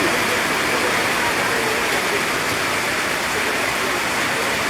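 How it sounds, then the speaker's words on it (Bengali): Heavy rain pours down in a dense, unbroken roar, loud and close throughout with no pauses. "অজর দ্বারাই ঝরছে বৃষ্টি"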